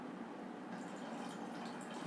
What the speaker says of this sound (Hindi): तो इसके अंदर अभी देखना मैं 100 ml पानी डालूंगा